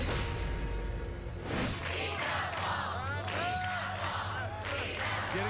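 A crowd shouts encouragement and tips at American Ninja Warrior competitor Spencer Hurtt on the course, a steady roar of overlapping voices with louder individual yells and a commentator talking over it.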